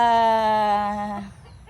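A chicken lets out a single drawn-out, tonal call up close, lasting about a second before fading into faint background noise.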